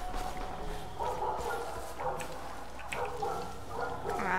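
A dog in the video game Far Cry 5 barks and yips in short bursts, mixed into dense game sound and background music.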